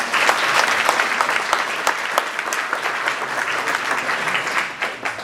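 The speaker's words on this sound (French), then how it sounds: "qui nous a fait le plaisir d'organiser cet hommage et qu'on peut remercier," Audience applause at a tribute concert in Treillières, greeting Sylvie, who organised the event: sustained, dense clapping from a sizeable crowd, steady throughout with no talk.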